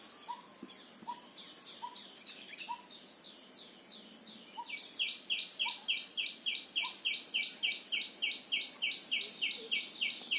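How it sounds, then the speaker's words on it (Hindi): Birds call and chirp at a Panchavati farm, a few sparse calls at first, then a loud, rapid run of repeated chirps close by fills the second half over a quiet outdoor background. "ये पक्षी बोल रहे हैं,"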